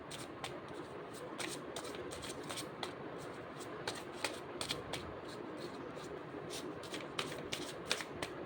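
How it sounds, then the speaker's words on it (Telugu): Tarot cards being shuffled by hand, a continuous close riffling and flicking with repeated sharp snaps, fairly quiet. "కార్డ్ షఫుల్ చేసేటప్పుడు పర్సన్‌ని తలుచుకోండి"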